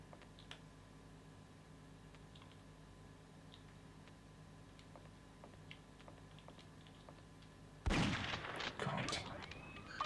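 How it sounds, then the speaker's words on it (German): Gunfire in the 1996 PlayStation game Alien Trilogy, fought inside a room. Quiet ticking and faint clicks lead into a sudden loud burst of rapid shots near the end. "Muss einfach schneller schießen."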